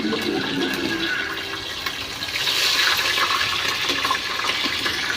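Green chillies with curry leaves sautéing in a pan for chicken biryani, a steady loud sizzle and hiss with watery crackle throughout, swelling slightly in the middle.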